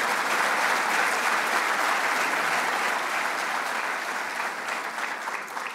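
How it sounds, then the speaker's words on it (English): A large audience at a state budget announcement applauds steadily for several seconds, a dense, loud wash of clapping that stays even and then thins slightly at the end. "You want to give that a round of applause?"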